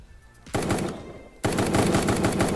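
Rapid bursts of automatic gunfire from a carbine in a Minecraft mod, a short volley followed by a pause and then a longer sustained burst, loud and close.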